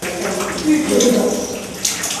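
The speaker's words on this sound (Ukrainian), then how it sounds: "За лічені хвилини після початку сьогоднішньої зливи вода почала литися всередину будинку" Heavy rainwater pours and splashes into an apartment building stairwell during a downpour, a steady close rushing wash with a brief murmur of voices in the background.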